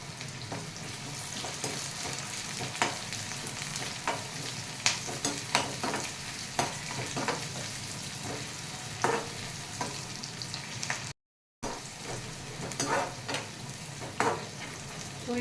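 Curry leaves fry in a pan for beetroot fry, with a continuous sizzle broken by frequent sharp stirring scrapes and clicks, close up and with no talking, and a brief gap of silence partway through.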